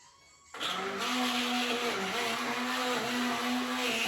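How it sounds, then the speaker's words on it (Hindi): An electric blender whirs steadily as it blends cream (malai) to make butter. It starts abruptly after a short quiet moment, then holds a loud, constant motor drone with a slightly wavering pitch. "ये है मलाई, तो इसको ब्लेंड करते हैं अब।"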